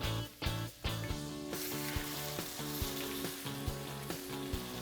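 A steak sears in a pan with fresh rosemary, garlic and butter, giving a steady loud sizzle throughout, with background music running over it.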